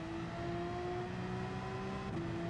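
A race car engine in Gran Turismo 7 during a Manufacturers Cup race, a faint steady whine holding pitch as the car pulls into the pits, with a brief shift near the end.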